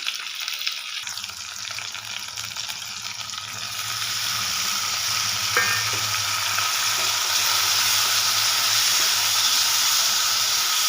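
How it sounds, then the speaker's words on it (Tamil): Steady sizzling and hissing of onions and tomatoes frying in a hot pan for eggplant gravy, growing louder and fuller after a few seconds, with a faint clink of stirring. "இப்போ தக்காளியும் வெங்காயமும் நல்லா வதங்கி வரட்டும்"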